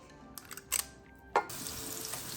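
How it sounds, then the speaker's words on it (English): Meatballs brown in olive oil in a deep skillet, a soft sizzle that starts after a few clattering knocks and sharp placing sounds, then settles into a steady low frying hiss. "I've got a deep skillet here with some olive oil in the bottom, and I am just browning my meatballs for a couple minutes on each side"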